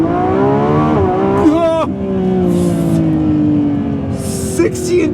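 A Lamborghini Revuelto launching in thrust mode from a standstill, its engine note climbing steeply through the revs with gear shifts as it accelerates hard, loud and close from inside the cabin, with a brief exclamation from the driver.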